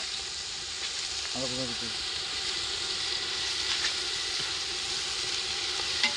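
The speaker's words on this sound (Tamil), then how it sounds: "வெங்காயம் நல்லா வதக்கலாம், பொன்னிறமாக வதக்கணும் வெங்காயம்." Onions sautéing in a pan until golden, a soft continuous sizzle with faint stirring, under a brief spoken word and low background hum.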